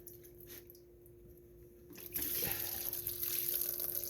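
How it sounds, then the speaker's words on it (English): Fuel draining out of a Craftsman 5.5 hp pressure washer tank while the tank is shaken, heard up close as a steady splashing, gurgling pour that starts partway through after a quieter stretch. "So I always drain my tank and I shake them while they're draining."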